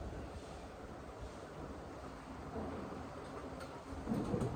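Wind blows outdoors on a hot day, a faint, steady broadband rush that swells slightly toward the end, with no voices.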